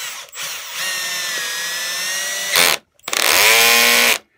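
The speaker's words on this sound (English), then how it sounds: "I got it set on a low setting, and I'm going to screw it into this first hole." A cordless drill on a low clutch setting drives a screw into wood, whining steadily at close range, pausing briefly, then running again in a second loud burst.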